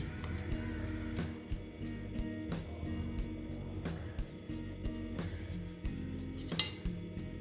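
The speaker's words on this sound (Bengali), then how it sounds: "আমি ব্রেডগুলো সব কেটে নিচ্ছি" Knife cutting slices of bread into small pieces for an egg and bread recipe, a steady series of close, rhythmic chops and taps on a board, with clinks of utensils and no talk.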